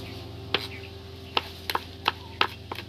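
A green chili is chopped on a board in a run of quick, light knife taps, some single and some in close pairs, close up over a low steady background hum, with no voices.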